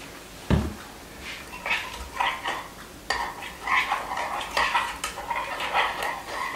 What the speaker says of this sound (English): So you just want to stir that in until all of that is mixed up, so you can kind of see it in the bottom of the Pyrex dish here.